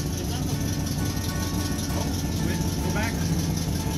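A 1975 Firebird engine runs steadily at close range, a loud, unbroken low rumble with no pauses.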